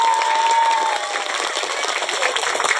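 Applause at a Maulid Nabi celebration, a dense burst of many hands clapping together that carries on steadily, loud and close, with a voice audible over it at the start.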